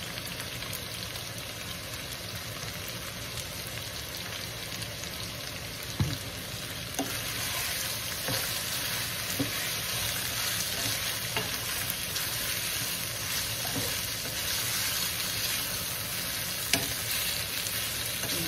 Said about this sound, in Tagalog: Mabango ang ating ginigisa.